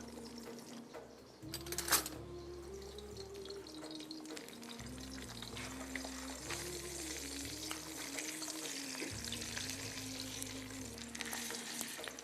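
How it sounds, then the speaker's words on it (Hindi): Koftas sizzle in hot oil and gravy in a pan, a steady close frying hiss with a few brief louder stirring or scraping bursts, no talking. "चलें जी, इसको हम और ज़रा फ्राई करेंगे, थोड़ा सा ये फ्राई हो जाए।"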